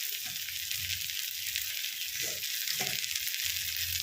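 Ginger and a large tomato fry in a pan with a steady, close sizzle and a few soft stirring scrapes, no voices.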